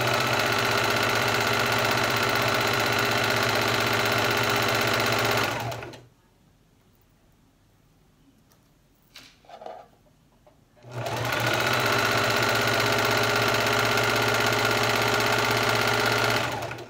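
A sewing machine stitches a heavy handmade travel blanket, whirring steadily for several seconds, pausing briefly with faint handling noises, then resuming its continuous close, even buzz.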